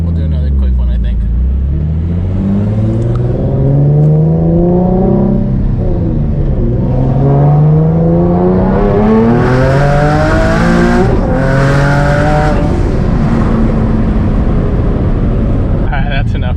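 A Nissan 350Z with a single turbo accelerating hard through canyon roads, loud close engine revving rising through repeated gear pulls with a deep rumble, then dropping off near the end.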